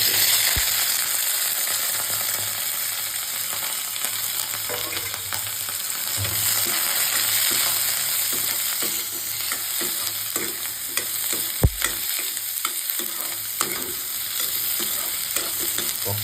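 Ripe chilies, tomatoes and onion fry in a pan, giving a steady, dense, hissing sizzle that holds throughout, with occasional faint stirring knocks close by and no voices.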